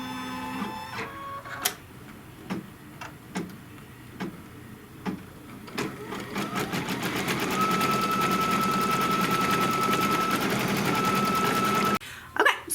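An embroidery sewing machine stitches a quilted mug rug, a few isolated clicks and thumps giving way to a steady rapid mechanical whir and needle rattle that runs until it stops near the end.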